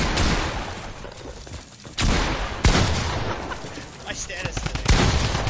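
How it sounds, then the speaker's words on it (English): In a Fortnite match, two grenades go off near the player as loud, booming blasts amid heavy gunfire and dense, continuous game noise, with a player talking over the action. "that guy just dropped 2 grenades on us"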